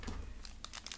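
Crinkly plastic wrapping of a Japanese candy package, small sugar-bead sweets inside, rustles and crackles in short, quiet bursts close by, several sharp crinkles clustering toward the end.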